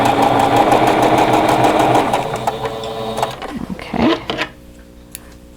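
A sewing machine hums steadily as it stitches quilt block seams, close and loud for about three seconds before slowing and stopping, followed by a few soft handling knocks.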